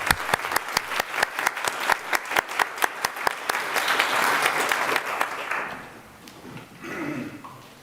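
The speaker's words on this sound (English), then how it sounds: "can we applaud for the volunteers?" A church congregation at an assembly gathering applauds its volunteers: sharp individual claps at first build into a dense, sustained round of applause, which then fades to a softer spatter before swelling briefly again.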